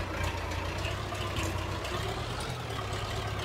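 Steady idling rumble of a tractor engine in Farming Simulator 22, a continuous low drone holding level and close throughout with no talk over it.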